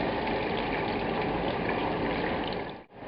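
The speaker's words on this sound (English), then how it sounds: "Now we add the water to this." Water poured in a steady gushing stream into a pot of wild mushroom soup, loud and close, cutting off abruptly near the end.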